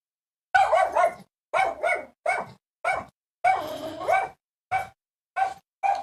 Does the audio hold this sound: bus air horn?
no